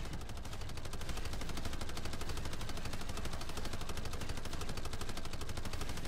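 Rapid automatic gunfire from a video game rattles on without pause, a loud, dense stream of machine-gun bursts filling the whole stretch with no talk over it.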